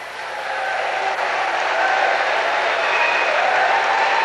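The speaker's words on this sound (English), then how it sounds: "Clap." Students at a boys' Catholic school applaud and cheer for a speaker, a steady wash of clapping that swells slightly and holds at a strong, even level.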